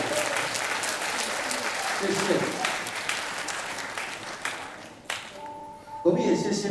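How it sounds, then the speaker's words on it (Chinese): An audience at a church Easter gathering applauds steadily in a broad wash of clapping for about five seconds, then it stops abruptly and a voice speaks over the quieter room. "我们大的掌声给上帝给他们"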